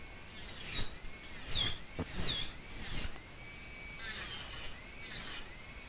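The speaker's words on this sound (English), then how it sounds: "After you have finished filing and drilling all 10 nails" Electric nail drill buffing acrylic nails during a back-fill and free-edge colour change, giving a faint high whirring rasp in short repeated passes with rising and falling pitch, close and quiet with no talking.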